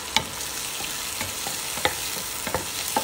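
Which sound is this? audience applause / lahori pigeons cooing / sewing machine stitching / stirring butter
stirring butter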